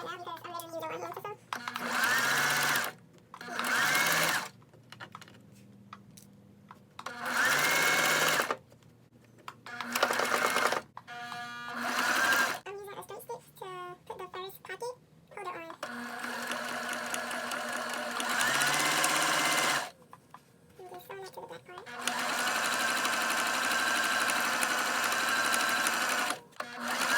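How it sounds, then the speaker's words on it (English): A sewing machine stitches a makeup brush belt in stop-start bursts, its whirring motor running for a few seconds at a time between short pauses, close and clear, with someone talking quietly in the gaps. "I'm going slow right now because I'm ready to use a one hand to sew."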